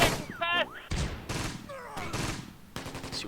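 Gunfire crackles in a battle near Caen in the Close Combat war game, with repeated bursts of shots, whistling and a low groan, loud and close over several seconds.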